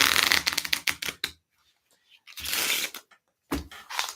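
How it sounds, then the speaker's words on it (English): A deck of playing cards is shuffled at a busker's table in two bursts of rapid riffling and fluttering, close up, with a short quiet pause between them. "I'll shuffle the deck."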